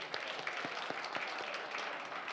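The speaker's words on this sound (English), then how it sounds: "Just a round of applause one more time." Seminar audience at a labour law event claps together, a dense wash of applause with a few sharper individual claps standing out, steady and moderately loud throughout.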